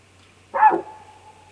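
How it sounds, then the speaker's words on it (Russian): A deer gives a single sharp bark-like alarm call in the Baikal reserve wilderness, one short loud burst trailing into a brief tonal tail, then near quiet. "Этот звук, похожий на лай, сигнал об опасности."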